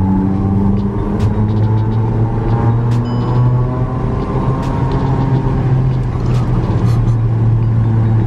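An Audi car driving over a white painted side-line rumble strip, giving a loud, steady buzzing drone under continuous engine and road rumble.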